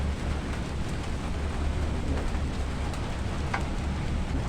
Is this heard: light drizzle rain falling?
yes